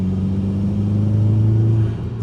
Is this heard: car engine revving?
yes